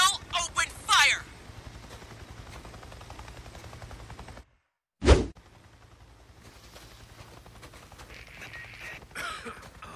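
Gunfire in the video game Days Gone: a single sharp, loud shot bursts out right after a moment of silence, surrounded by character voices and in-game ambience.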